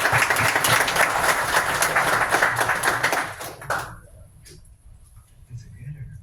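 Audience applause at a tech demo night, a dense burst of clapping that fills the room for nearly four seconds before cutting off, leaving quiet murmurs and scattered sounds.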